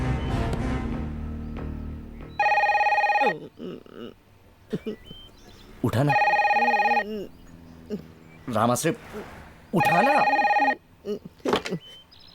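Old-style telephone bell rings in three loud, long bursts, spaced apart, while a man calls out between the rings in a Hindi film scene.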